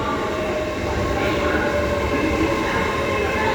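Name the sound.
LNER Azuma train arriving at Doncaster station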